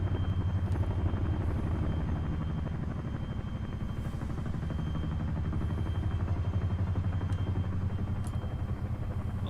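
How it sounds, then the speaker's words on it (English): A Chinook helicopter in Arma 3 produces a continuous heavy rotor thump and low engine drone, steady and loud throughout, with a few faint clicks above it and no talking. "There's a Chinook"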